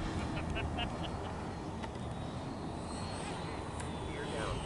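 A Freewing MiG-29 RC model jet in Polish Air Force markings approaches to land, its ducted-fan engine giving a steady, broad whine and rush throughout, with people talking nearby over the noise.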